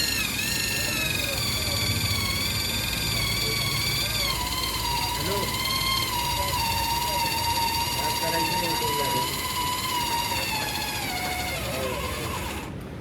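A power drill bores a hole through metal in a workshop during a hydraulic press check valve install, giving a loud, steady high-pitched whine and grinding that shifts in tone as the bit nears breaking through, with no pause.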